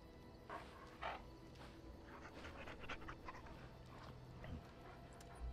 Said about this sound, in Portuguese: Vai ser pra falar com o cachorro de novo.